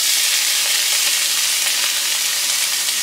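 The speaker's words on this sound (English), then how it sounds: "So we gonna add some onions here first." Onions dropped into a hot silver pan, sizzling loudly and steadily for a few seconds with a dense, even hiss and no voices.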